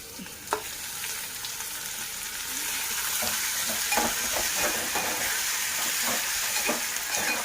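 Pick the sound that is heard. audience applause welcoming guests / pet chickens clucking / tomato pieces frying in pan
tomato pieces frying in pan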